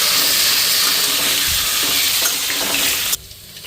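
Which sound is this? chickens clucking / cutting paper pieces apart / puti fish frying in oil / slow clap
puti fish frying in oil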